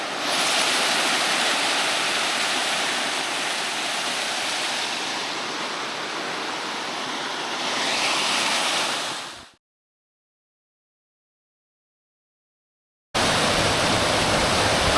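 Bemis Brook waterfall in Crawford Notch, New Hampshire, a loud steady rushing roar of falling water heard close, cutting to silence for several seconds before the roar resumes.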